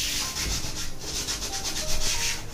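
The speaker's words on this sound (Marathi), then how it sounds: "देवाराजवळ जे तेलाचे डाग असतात ते आपण सोप मध्ये बुडवलेल्या स्क्रबरनी असे घासून घेणार" Soapy scrubber rubbed back and forth over oil stains on household furniture near a home shrine, a steady close scratchy scrubbing with rhythmic strokes and no talking.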